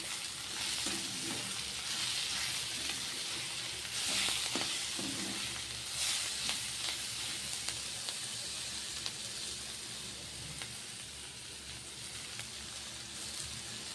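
Fenugreek leaves and coriander sizzling and frying in a pan for methi bhaji, a steady close crackle throughout with a few louder spatters and stirring scrapes, no talk.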